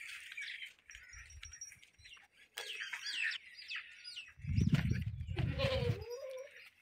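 Goats at a livestock market bleating several times in quick succession, fairly near, with bursts of low rumbling handling noise between calls.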